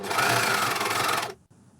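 A Juki coverstitch machine sewing with three needles runs at a steady, fast, loud mechanical whir close by, then stops abruptly, leaving a brief click and quiet.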